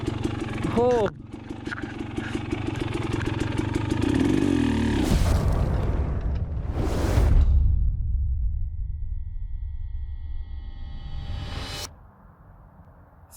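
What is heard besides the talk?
enduro dirt bike engine running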